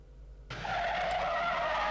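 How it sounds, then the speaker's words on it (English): A video game car crash sound effect from Tales of the Wild Zeep bursts in after a quiet start, a loud skidding, tire-squeal rush that holds steady to the end. "It's just a car crash sound effect"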